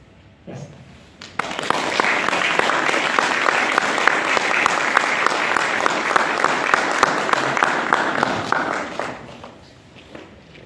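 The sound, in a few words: audience applause after a book launch presentation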